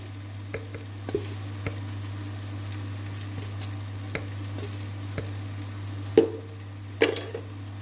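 Kashmiri chili powder and cumin powder masala being sautéed in oil for a lote fish curry, a steady low sizzle with scattered stirring clicks and a couple of louder scrapes near the end, no voices.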